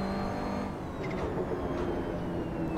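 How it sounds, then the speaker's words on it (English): In Assetto Corsa, a Ferrari 488 GT3 brakes hard across rumble strips, its engine note whining and dropping in pitch over a steady, buzzing drone, heard alone at moderate level. "I tend to go onto the rumble strips as I'm hitting the brakes, because I just love the sound as you're slowing down."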